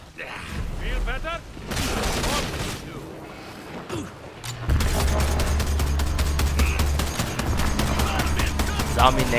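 Gunfire from the video game Evolve: dense bursts of automatic weapon fire and booms crackle through a hectic match, with a steady low rumble taking over midway and players talking throughout.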